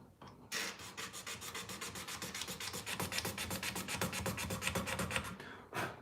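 Razor blade scrapes a new guitar neck in quick, rhythmic back-and-forth strokes, a close, dry rasping that repeats about a dozen times per burst, with a brief pause and a final stroke at the end.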